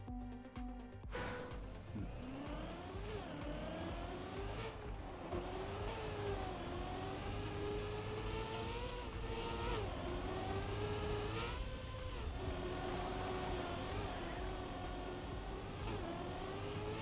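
A race car's engine in the game Trackmania 2020 drones steadily throughout, its pitch rising and dipping with shifting revs and brief surges, loud and continuous without pause.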